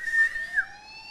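Phone finder app alert triggered by whistling, a sharp electronic tone that rises and sweeps like a short siren, bright and close, fading after about a second.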